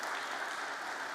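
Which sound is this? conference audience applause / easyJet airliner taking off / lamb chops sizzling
conference audience applause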